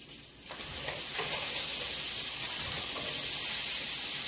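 Strips of bacon fry in a pan with a steady, close crackling sizzle that starts after a brief stir and holds loud and even to the end, with no talking over it.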